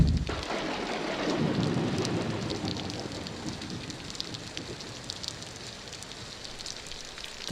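A thunderstorm sound effect: a low rumble of thunder at the start fading into steady heavy rain pattering on a surface, dense and continuous with no voices.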